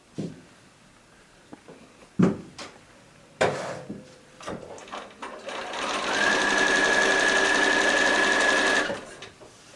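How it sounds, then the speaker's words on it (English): A sewing machine sews a straight stitch along a fabric grocery bag hem, whirring steadily for several seconds after a few clicks and knocks of handling, running at an even speed nearby. "you're just going to sew a straight line down each hem"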